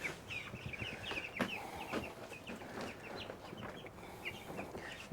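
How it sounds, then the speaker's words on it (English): Small chicks peep softly under a heat lamp, with a steady scatter of high chirps over a low background hum, faint and close. "Here's the little chicks."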